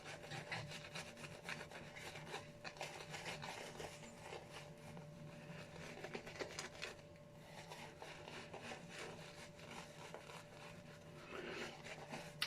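A brush lathers Proraso green shaving soap with soft, continuous wet scrubbing and rubbing strokes, quiet and close, in an uneven rhythm with no talking.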